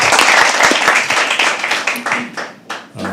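Audience applause at a poetry open mic, loud and close, a dense burst of many hands clapping that slowly thins and fades toward the end.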